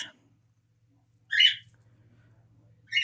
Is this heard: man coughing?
no